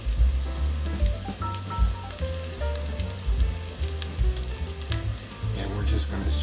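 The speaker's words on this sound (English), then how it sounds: "our hash browns are frying away" Hash browns sizzle and fry steadily in a pan at close range, a dense continuous crackle with small pops throughout and no talking.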